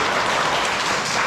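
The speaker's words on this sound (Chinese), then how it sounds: "掌声。" A dense burst of applause from a class of dance students, steady, close and loud over its short length, with no talking.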